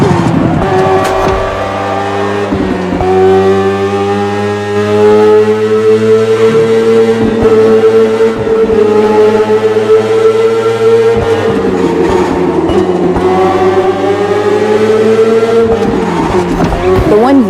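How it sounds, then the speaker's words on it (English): A BMW S1000RR superbike engine in a racing video game, a loud sustained whine whose pitch climbs and drops through shifts across the clip, running steadily throughout. "The one you're riding is the S1000RR. It's what we call a superbike."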